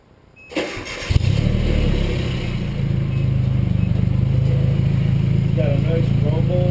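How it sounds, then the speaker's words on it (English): Nissan D21 Hardbody pickup with a glasspack muffler cranks and fires up, then settles into a steady, deep, rumbling idle that stays loud and close, with brief talk near the end. "Got a nice rumble at idle."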